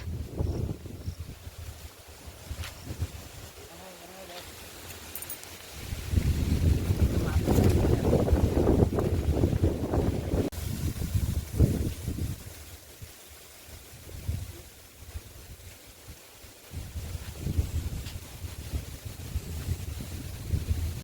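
Strong gusty wind blows across an open rural spot beside a pond, roaring in broad buffeting surges that swell loudly in the middle and again near the end, rumbling against the microphone.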